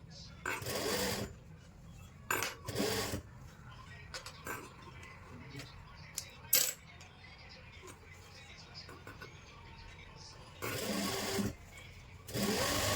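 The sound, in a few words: sewing machine stitching kurti sleeves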